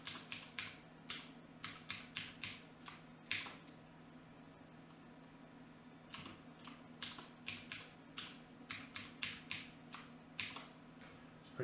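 Fingers tap out a password on a computer keyboard in quick irregular bursts of soft clicks with short pauses, faint and close against a low steady hum.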